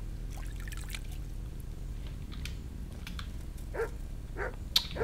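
A dog barks a few times at a distance inside the medieval world of the video game Kingdom Come: Deliverance, short sharp yaps scattered over a steady low ambient bed of game sound.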